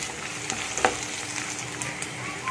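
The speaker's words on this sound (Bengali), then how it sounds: "এটাকে আমি ভালো করে ভেজে নেবো পেঁয়াজের উপরে দিয়ে।" Ginger garlic paste sizzles and fries over onions in a pan, a steady broadband crackle with occasional stirring scrapes and small pops throughout, close and moderately loud with no talking.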